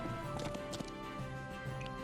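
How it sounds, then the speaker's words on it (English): Horses' hooves clip-clop quickly in the video game Banner of the Maid, mixed with a continuous busy game soundtrack and brief effect bursts. "Here come the horses that can do no damage."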